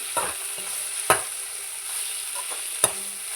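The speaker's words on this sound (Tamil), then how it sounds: "கீரையை ஆட் பண்ணி நல்லா அதையும் சேர்த்து நல்லா போவோம்" Drumstick leaves being sautéed in a pan for a soup, a faint steady sizzle broken by three sharp scrapes of a spoon against the pan, close and without any voices.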